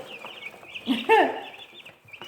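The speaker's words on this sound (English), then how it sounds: "we've had our meat birds in. And right now they are eating." Cornish Cross meat chickens feeding, with a few soft close clucks and one brief louder call over quiet background chatter.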